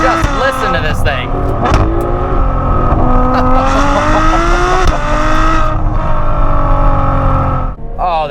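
Ferrari 812 Superfast, a 2018 model, accelerating hard: a loud, rising high-pitched engine wail climbs through gears with brief shift breaks, close and dominant throughout, with a faint tire squeal.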